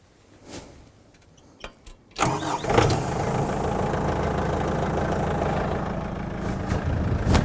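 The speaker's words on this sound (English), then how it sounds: "This is where I start the machine up." A TRX SP7015 stump cutter engine is cranked and catches with a roar after a few clicks and short bursts, then settles into a steady, loud, close idle that continues to the end.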